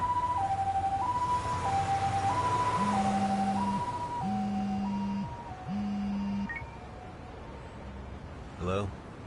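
Ambulance siren in the Lost Judgment video game, a two-tone wail cycling steadily for about six seconds alongside a lower repeating horn-like tone, then cutting off before a brief voice blip.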